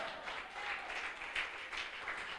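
Steady applause from a church congregation, a continuous wash of clapping held at a fairly low, even level throughout.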